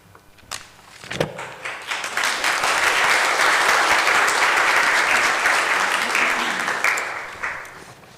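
A church congregation at a Sunday service applauds departing youth, the clapping swelling from a few early claps into a full, sustained round that tapers off near the end.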